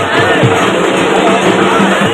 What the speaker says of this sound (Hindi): बहुत ज़्यादा भीड़, देखिए कितने सारे लोग ले जा रहा है, बहुत ज़्यादा भीड़ है भाई।